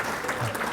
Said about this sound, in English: let's give Andrew another round of applause